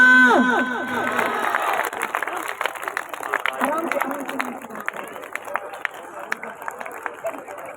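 Audience at a children's Christian skit clapping and cheering, a burst of applause with shouts, with voices over it, fading to scattered claps toward the end.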